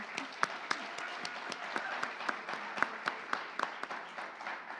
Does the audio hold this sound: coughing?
no